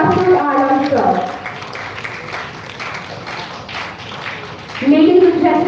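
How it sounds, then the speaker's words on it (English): Audience applause at the ICFIFS 2025 conference: scattered, moderately loud clapping from a crowd that fills a few seconds between stretches of talk. "Let's give him a big round of applause to Mr. Masood Alam, sir."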